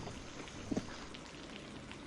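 Cartoon rain on a rainy day, a faint steady patter of drops on a surface with one short soft splash or knock midway.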